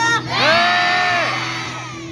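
Crowd at a Hongdae street busking performance shouting and cheering together in one loud, sustained burst of whoops and yells that rises quickly and fades out.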